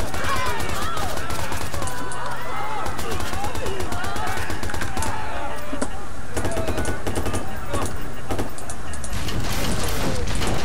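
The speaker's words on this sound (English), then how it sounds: "I need to shoot those people at first" Rapid bursts of automatic gunfire and single shots crackle loudly in Watch Dogs, dense and continuous, with vehicle rumble underneath.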